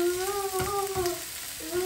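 Onion frying in oil in a pan, a steady close sizzle with a sustained tonal hum running through it, no talk.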